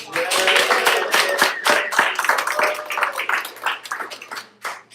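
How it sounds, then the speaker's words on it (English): Audience applause for Jenny, a rock and roll student performer at a music school showcase, with dense clapping that is loud at first, then thins and fades toward the end. "Everybody, please give a round of applause for Jenny."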